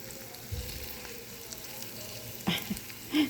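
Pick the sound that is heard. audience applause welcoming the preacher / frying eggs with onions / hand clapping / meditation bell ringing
frying eggs with onions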